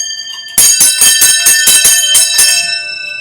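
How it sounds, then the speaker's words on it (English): Muffin bells ring in a rapid, bright jangle of about ten strikes, loud and close, then fade into a lingering metallic shimmer. "The runners rattled clackers and rang muffin bells."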